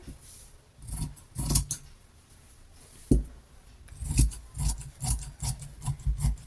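Scissors cut fabric for a top in a series of short, close snipping and rasping strokes in uneven bursts, with quiet pauses between them.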